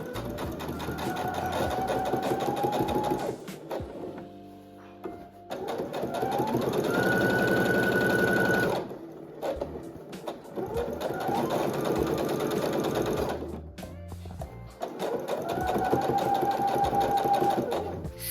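A sewing machine stitches elastic casings on a seersucker garment, running in several long steady bursts with brief pauses between them, close and loud.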